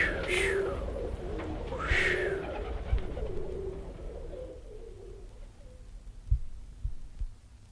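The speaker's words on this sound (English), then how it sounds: "Look at that pigeon." Pigeon cooing used as a comedy sound effect in a 1970 comedy recording: two rising-and-falling coos close by, followed by quieter murmuring and a few soft thumps.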